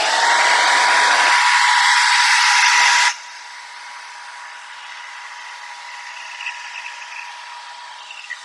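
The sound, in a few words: hair dryer drying acrylic paint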